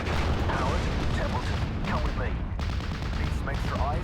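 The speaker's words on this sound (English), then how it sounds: "So the Panzer III should start shooting at my sniper soon" A Panzer III tank fires at a sniper in the WWII strategy game Steel Division: Normandy 44, with dense, continuous gunfire and booming battle noise filling the whole stretch.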